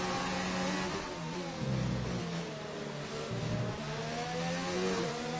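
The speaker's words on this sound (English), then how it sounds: "Edwards getting the power down. He's going to have the DRS advantage" A racing car engine in the SRL League sim racing game at the Bahrain GP, loud and close as it accelerates, its rising and falling tone shifting through gears.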